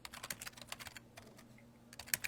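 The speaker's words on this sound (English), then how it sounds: "I'm typing it in now." Rapid keystrokes on a computer keyboard, close and crisp, with a brief lull midway before another cluster of taps and a steady low hum underneath.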